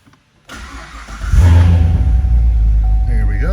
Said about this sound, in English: we'll get in and fire this one up